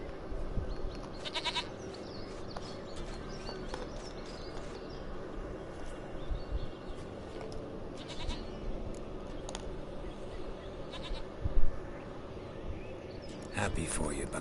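A goat in The Witcher III bleats several times over a busy game soundscape, the calls fairly faint and mixed with other ambient noise and scattered sharp sounds.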